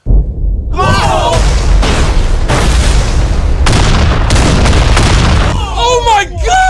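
Loud, booming blasts in the video game Train vs Giant Pit, a sustained rumbling explosion lasting several seconds, with excited shouting voices before and after.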